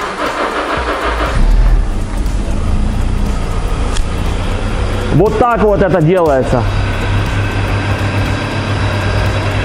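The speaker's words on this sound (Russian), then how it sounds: "Машина работает, коммутатор заменен" A first-generation Honda CR-V RD1 engine idles steadily nearby after a distributor repair, a low continuous running hum with someone speaking briefly over it partway through.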